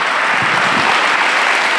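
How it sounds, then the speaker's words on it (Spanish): A church congregation breaks into loud, dense applause, a steady wash of many hands clapping together that carries through the whole moment without pause. "¿Por qué no le damos otra ofrenda de palmas al Señor?"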